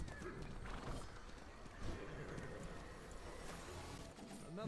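A horse neighs in the SMITE video game while it is being ridden. The short whinny rises near the end, over a busy, steady bed of game sound effects and hoofbeat-like clatter.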